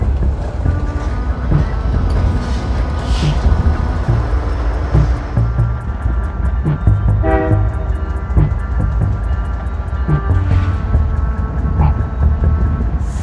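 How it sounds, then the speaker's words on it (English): An outbound Metrolink commuter train speeds past a Southern California station with a loud, steady rumble of wheels and cars, its horn sounding in several distinct blasts over the roar, close and dominant throughout. "An outbound Metrolink train would speed by the station with a friendly engineer"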